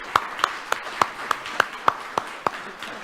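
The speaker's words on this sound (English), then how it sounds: "I hope you join me to applaud," Sparse, distinct claps ring out in a slow, evenly spaced rhythm, roughly one every third of a second, as an audience applauds speakers and a panel at a closing discussion.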